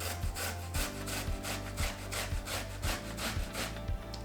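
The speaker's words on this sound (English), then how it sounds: "for the second half of the taro, I will try to use the grater" Raw taro is rubbed against a hand grater in a home kitchen, a close, coarse scraping in even back-and-forth strokes, about two per second, with no talk.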